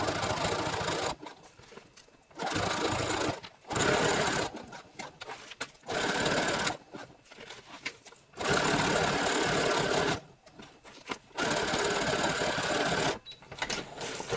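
A sewing machine stitches 2-inch Velcro onto webbing for a pilot harness belt, running in loud, rapid bursts of mechanical clatter broken by short pauses between runs.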